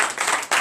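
A church congregation claps together in a brief, dense burst of hand claps, loud and close, with a short dip before the clapping surges again.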